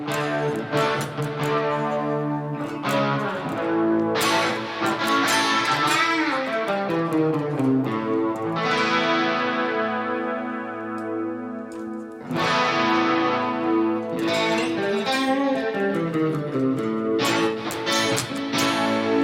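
Electric guitar played through an amp model with added distortion on an Axe-Fx 3, ringing sustained chords and a bending lead line, loud and alone with effects wash.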